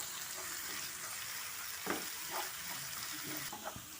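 Chopped green chillies sizzle in hot oil with garlic in a pan for gobi manchurian, a steady close crackle with a few soft scrapes as they are stirred.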